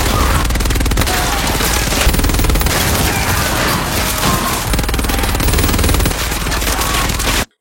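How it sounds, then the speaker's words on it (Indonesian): A war film battle scene fills with dense, continuous gunfire, rapid machine-gun bursts and loud shots running almost without pause until an abrupt cutoff. "Dan Freddy mulai menembak."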